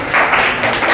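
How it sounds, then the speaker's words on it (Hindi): Students clap their hands together in a classroom, a dense, steady patter of many hands that swells in waves across the second, fairly loud and with no voices. "बजाओ भाई, ताली बजाओ"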